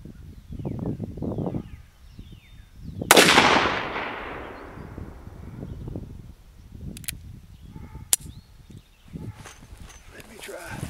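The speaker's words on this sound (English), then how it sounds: "Let me fire off some more 38 specials" A single loud gunshot from a Colt Peacemaker revolver loaded with .38 Special rounds cracks outdoors with a decaying echo, amid talking and faint shuffling.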